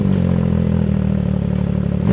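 An MV Agusta Dragster 800RR motorcycle engine idling steadily, a close, loud, even low rumble with no riding or revving.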